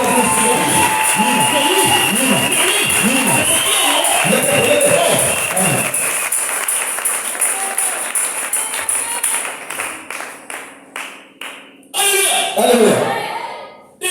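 A church congregation acclaims Jesus Christ with a swelling mix of cheers, shouts and clapping. The noise fades into scattered claps and murmurs, then a final loud burst of acclaim rises near the end.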